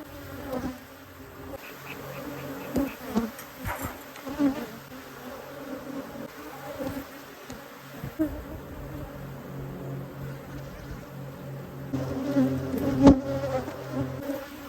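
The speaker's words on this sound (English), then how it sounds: "These bees are not as crazy as I thought they were." Honey bees buzz around an opened hive in the Texas Hill Country during spring, a close, continuous hum with bees darting by the microphone and short louder passes, and no talking.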